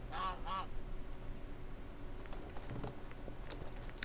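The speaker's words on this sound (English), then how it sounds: "let me know in the comments what we should name this lovely, wonderful goose friend of ours." A goose in the Minecraft video game gives two quick honks at the start, followed by quiet ambient game sounds and faint soft clicks for the rest of the moment.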